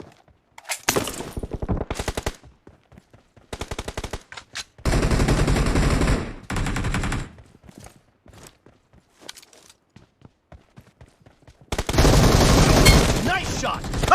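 Shooter video game gunfire rattles out in several loud bursts of rapid automatic fire, separated by gaps with scattered single shots and clatter, close and dominant.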